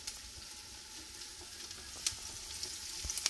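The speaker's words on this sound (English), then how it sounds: "For now, I'm going to give another quick stir." Ricotta meatballs in tomato sauce simmer and sizzle softly in a pan, a faint steady hiss; a few light clicks of a spoon stirring come toward the end.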